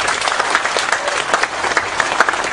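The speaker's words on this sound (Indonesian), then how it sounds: "Tepuk tangan untuk Pak Nevi." Audience applause for Pak Nevi at a Kiai Kanjeng gathering with Cak Nun, a dense, steady wash of many hands clapping together, loud and close throughout.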